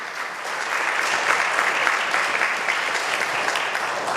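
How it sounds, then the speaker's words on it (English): An audience at a bat mitzvah anniversary celebration gives a steady, sustained round of applause, even and unbroken throughout with no voices on top. "Let's give one more round of applause"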